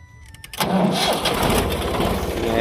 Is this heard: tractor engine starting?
yes